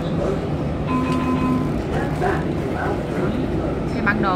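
A Washington Metro train pulls into the Washington National Airport station with a continuous rolling rumble and a few brief high squeals, while someone talks over it.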